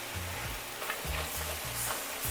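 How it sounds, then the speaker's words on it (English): Mushrooms cooking down in a pan with butter for beef burgundy, giving a quiet, even sizzle over a low rumbling hum throughout. "once our mushrooms begin to cook down, we're going to add in about 3 tablespoons of butter"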